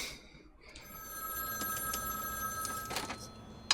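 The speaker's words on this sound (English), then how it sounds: "You hear a phone ring and it could be anybody." A telephone bell rings in a movie scene, a bright metallic trill starting after a short quiet lead-in and sustaining with a few louder bursts toward the end.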